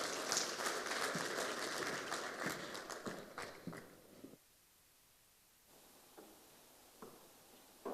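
An audience at a stakeholder forum applauds as a CEO comes forward. The dense clapping fades over about four seconds, then cuts to near silence broken by a few faint taps.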